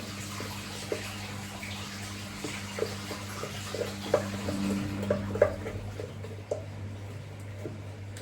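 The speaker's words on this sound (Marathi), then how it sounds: "हे जे डाळीचं पीठ आहे ना, ते आधी चांगले मी याच्यामध्ये ढवळून घेणार आहे" A spoon stirs gram flour into a sweet corn paratha mixture in a bowl, making soft scraping and scattered light clinks, fairly quiet over a steady low hum.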